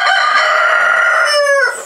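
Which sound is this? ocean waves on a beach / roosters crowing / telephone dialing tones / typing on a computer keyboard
roosters crowing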